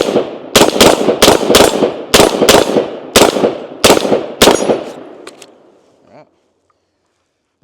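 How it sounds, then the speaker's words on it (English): Eight sharp rifle shots from a Sig M400 SDI AR-15, loud and close, fired in an uneven rhythm over about five seconds, with a lingering echo fading into silence afterward. "Let's go ahead and take a few more shots with our rifle now"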